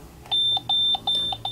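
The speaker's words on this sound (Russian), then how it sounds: "Сейчас давайте попробуем продемонстрировать будильники." A VST 770T electronic clock sounds its alarm in a quick series of bright electronic beeps in repeated bursts, close and clear, with no voices.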